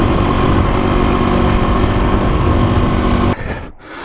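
Engine of a 2008 Husqvarna TE250 dual sport motorcycle running steadily and loud up close, a dense buzzing drone that cuts off abruptly near the end, leaving a quieter rumble.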